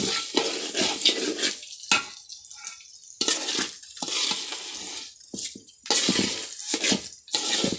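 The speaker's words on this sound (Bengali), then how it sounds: "চালগুলো ভাজা ভাজা করব, তারপরে মাংসগুলো দিয়ে দেব" Rice frying in a pot on a clay stove while being stirred for biryani; loud, close scraping and sizzling in repeated bursts, separated by brief pauses.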